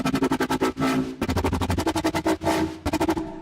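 Rapid, evenly pulsing FM synth noise wobble with a buzzy, noisy tone, interrupted by short whooshing swells before the throbbing rhythm resumes.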